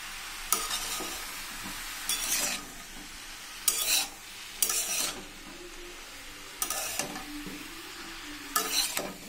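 A spoon scrapes and stirs a gourd curry with bori lentil dumplings, salt, turmeric and green chilies in a pan. About six distinct stirring strokes come at irregular intervals over a faint sizzle.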